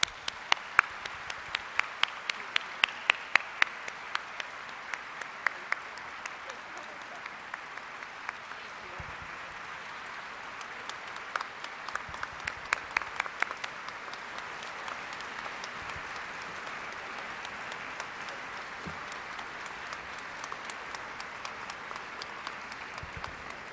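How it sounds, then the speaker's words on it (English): Audience at a university nursing pinning ceremony giving a sustained round of applause, dense clapping with sharper individual claps near the start, continuing steadily for the whole stretch without talk. "We can have a round of applause for this phenomenal woman."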